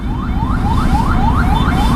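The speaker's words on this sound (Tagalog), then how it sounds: "Ayun ang ambulance" A loud, close wailing ambulance siren with rapid rising sweeps repeating several times a second, over steady traffic rumble.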